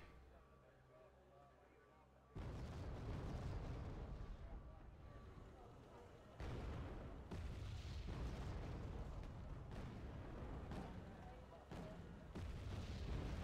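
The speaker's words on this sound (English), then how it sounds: "Seeing constant artillery suppression onto Delta here." Artillery fire and explosions boom and crackle continuously from the Wargame Red Dragon battlefield, dense rumbling bursts that swell in waves and persist loudly, while someone commentates over them.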